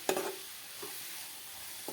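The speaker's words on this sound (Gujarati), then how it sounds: "ગાજરને આપણે સારી રીતે આવી રીતે ઘીમાં મિક્સ કરી દેવાનું." Carrots are stirred through ghee in a kadhai, with a few scraping strokes of the spoon over a gentle, continuous sizzle, heard close and without voices.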